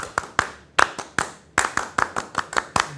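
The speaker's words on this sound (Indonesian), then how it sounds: "saya boleh dong kita beri salam tepuk pramuka ya" A group performs the rhythmic Indonesian scout clap, tepuk pramuka, at a talk show: sharp, close hand claps in a patterned sequence of short bursts and pauses, with no talk over them.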